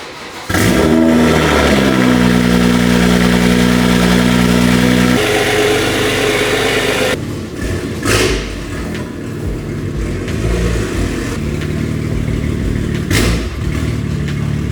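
A BMW engine revs hard with its exhaust valve stuck open, rising to a loud sustained roar through the exhaust, then settles into a rumbling idle with occasional blips.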